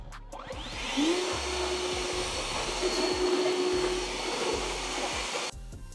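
A powerful air blower roars steadily for several seconds, drying off a freshly washed car's paint after a soap test, starting up and then cutting off near the end, close and loud with no talking.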